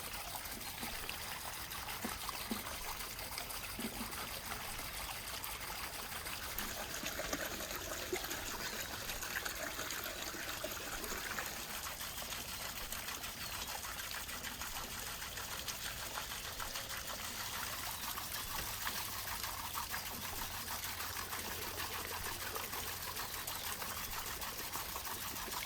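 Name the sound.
rinsing buckwheat under well water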